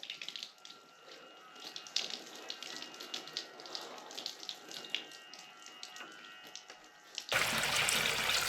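Steady running water from a shower in a cabin, a continuous broadband hiss with splashy fluctuations that swells to a louder, denser rush near the end, with no talking.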